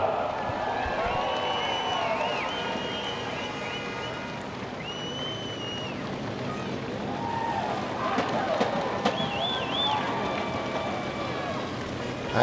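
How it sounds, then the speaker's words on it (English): A crowd at a sprint car race cheers and applauds the winner, a broad, distant wash of clapping and shouts mixed with announcer-style talk and scattered whistles over about twelve seconds. "Give him a huge round of applause."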